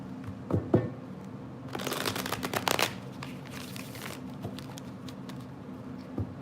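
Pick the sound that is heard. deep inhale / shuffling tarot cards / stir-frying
shuffling tarot cards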